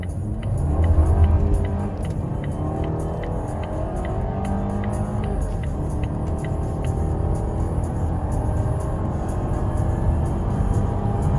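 Volvo V90 base T5 with an MST intake and a RaceChip tuner in race setting accelerates hard from inside the cabin, engine note climbing steadily through rising gear sweeps, loud and continuous with no talk.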